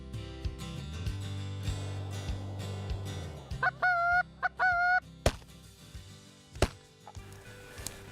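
Geese honk during a goose hunt in northeast Oregon, a few repeated nasal calls in short bursts at moderate distance, over sharp knocks and low outdoor rumble.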